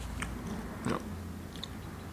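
A single crunchy bite into a reheated Thai fried shrimp cake, close and brief, followed by faint chewing over a steady background hiss, with no speech.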